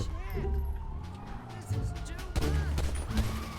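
Gunfire in a GTA V Online police shootout, bursts of shots crackling over engine and siren noise while someone talks throughout.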